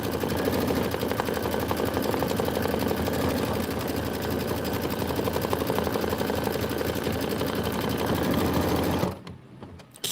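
A sewing machine stitches an outline stitch on a Kimberbell Sweetheart Street block, running with a fast, even, loud mechanical chatter close by for about nine seconds before stopping abruptly.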